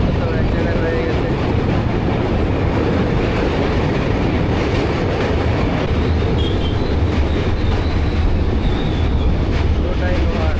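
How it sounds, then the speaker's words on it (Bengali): Heard from inside a vistadome coach, the Howrah-Radhikapur Kulik Express runs on rails at over 100 km/h while rounding a curve near Farakka, producing a loud, unbroken rumble with a rattling, clattering edge throughout. "ট্রেনটা কিন্তু খুব বড় সড়ো, এবার একটা বাঁক নিচ্ছে।"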